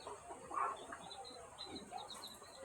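A chicken clucks faintly a few times on a rural farm, soft short calls over quiet background hiss with no talking.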